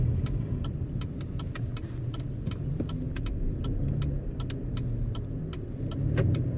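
A 2016 Chevy Colorado 4WD pickup rolls along and turns, its engine and road rumble a steady low drone with light clicking and ticking sounds scattered over it throughout.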